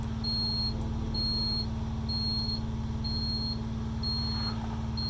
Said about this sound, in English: eventually the temperature alarm starts going off